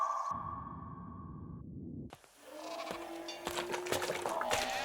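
Goats bleating amid livestock, with a sustained tonal drone before a brief pause and then layered cries and a high ping over background sound, moderately quiet.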